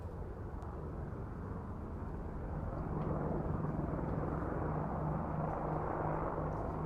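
Apache helicopters fly in an air show display, giving a steady, low rumbling rotor and engine drone at a distance that grows a little louder midway, with a faint tonal hum.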